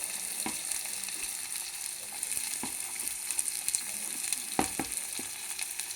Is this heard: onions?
yes